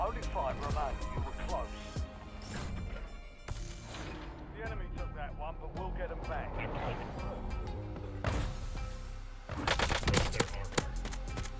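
Bursts of rapid gunfire in the video game Warzone crackle on and off, growing louder near the end, while a person talks over them.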